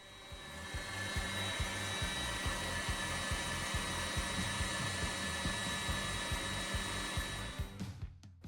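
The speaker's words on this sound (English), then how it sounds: "With the mixer running on high, slowly add the granulated sugar 1 tablespoon at a time" Electric mixer whipping gluten-free angel food cake batter at high speed, a steady loud whirring drone with a regular beating pulse throughout, stopping abruptly near the end.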